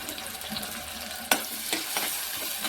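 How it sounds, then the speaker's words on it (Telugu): Potatoes and tomatoes fry in a pan for a curry, giving a steady sizzle with a sharp clink and a few stirring scrapes near the middle. "ఎర్రగా వేయించుకుందాం."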